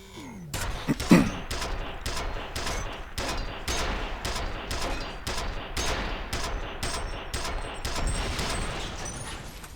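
A gun fires in a video game in rapid, evenly spaced bursts, a long volley of loud, sharp reports that keeps going for the whole stretch.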